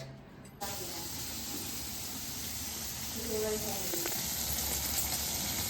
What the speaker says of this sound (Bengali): বেগুন ভাজা হচ্ছে এখানে